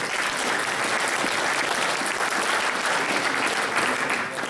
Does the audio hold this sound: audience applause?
yes